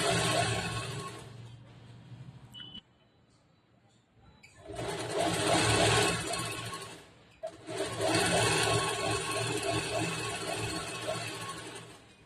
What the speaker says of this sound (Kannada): ಸೊ ಇದನ್ನು ಅಷ್ಟೇ ಸ್ಟಿಚ್ ಮಾಡುವಾಗ ಬಟ್ಟೆ ಜಗ್ಗಿ ಆಡಬಾರ್ದು.